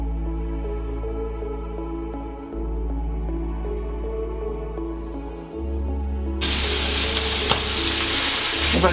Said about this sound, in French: dans toute la graisse pour que ça saisisse tout le côté du magret